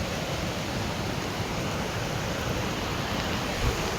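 Heavy floodwater rushes past in a continuous broad roar, loud and unbroken, with no voices over it.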